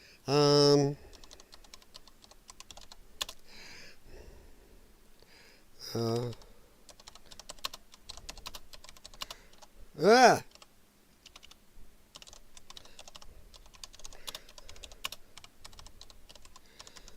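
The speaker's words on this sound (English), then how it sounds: "Sorry, I know you gotta suffer through my typing" Clacking on a computer keyboard, a fast patter of light key clicks running quietly under a podcast host's talk, with bursts of speech breaking in now and then.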